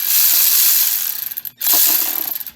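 A ratchet loosens an oil pan bolt under a Chrysler Town & Country Grand Caravan, giving steady close clicking that breaks off briefly, then resumes in shorter irregular bursts.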